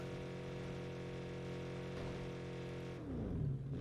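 A vehicle engine in the video game Jurassic World Evolution 2 hums at a steady low idle, then swells into a brief louder rev near the end, heard alone without talk.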